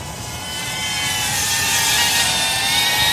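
A GEPRC CineLog 30 FPV drone in flight gives a steady, loud high-pitched whine with a broad rushing hiss that swells slightly and holds without a break.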